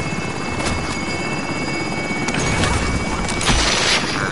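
Cash drop helicopter in a PS4 video game, its steady rotor drone filling the scene continuously, with a slight swell in loudness near the end.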